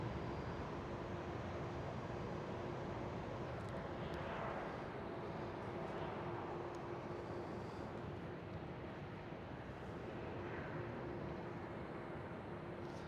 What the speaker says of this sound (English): There goes a KLM 787